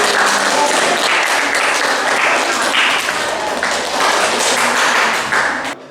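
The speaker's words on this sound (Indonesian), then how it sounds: "Kita kasih tepuk tangan untuk" A classroom audience applauds a presenting group after a lesson on hydroponics, with loud, dense clapping sustained for several seconds before it tapers off at the end.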